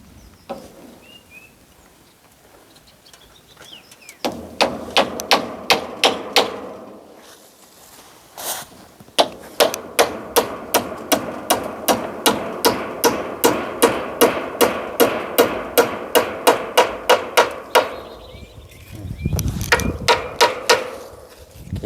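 Steady, loud hammer strikes ring out in a rapid regular rhythm, with a pause before the pounding resumes and continues for a long stretch.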